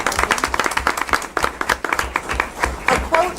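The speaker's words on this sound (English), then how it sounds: "we'll just give her a clap" Audience clapping for a teacher during a public school board meeting, a brisk, uneven patter of many hands in a room, steady for a few seconds with no talk over it.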